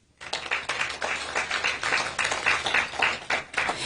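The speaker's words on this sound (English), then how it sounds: "Another round of applause for them, ladies and gentlemen." An audience at a press conference in Lagos claps after a brief quiet start, a dense run of applause that holds steady for a few seconds, with no voices over it.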